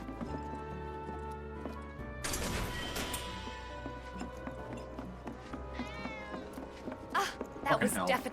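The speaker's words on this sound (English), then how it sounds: "That was definitely a cat." Cat meowing in the game Final Fantasy VII Remake, short meows amid game sounds and clattering, with a voice talking over parts of it.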